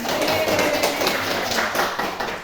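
A classroom of students claps in a short burst of rhythmic applause, fairly close and steady for a couple of seconds, with faint voices underneath.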